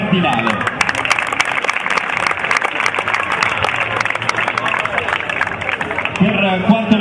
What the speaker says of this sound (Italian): facciamo un applauso anche al vice allenatore di Fondi, Fabrizio Cardinale.